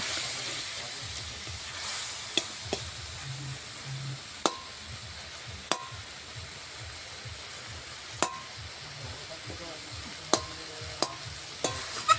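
Spiced masala for a shol (snakehead) fish malai curry stirred and sautéed in a pan, a low steady sizzle with a spatula scraping and occasional sharp clinks against the pan, fairly quiet and close.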